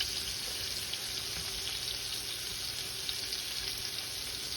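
Salisbury steak patties sizzle in a frying pan with a dense, even hiss, steady and close throughout, with no talking.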